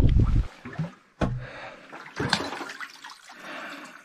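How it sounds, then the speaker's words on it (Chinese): Water poured from a container into a dog's drinking bowl at a camper-van stop in open pastureland; short, splashy gushing bursts come close and fairly loud, separated by brief pauses, with no talking. "我给你倒水。"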